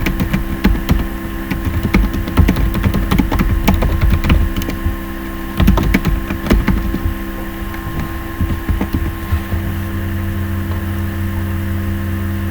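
An email address being typed on a computer keyboard, with irregular bursts of close, crisp key clicks over a steady electrical hum and no speech.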